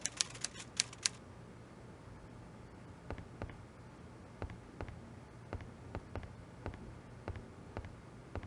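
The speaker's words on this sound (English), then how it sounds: "he seems to be typing up quite a storm" Typewriter keys clatter in an Agatha Christie mystery video game, a quick burst of strikes up front, then sparse, evenly spaced single clacks at moderate distance over a low steady hum.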